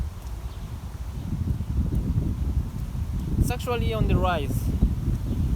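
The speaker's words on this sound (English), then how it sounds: "There's a little wind here" Outdoor wind buffets the microphone with a steady low rumble and gusty rustle, while someone talks briefly partway through.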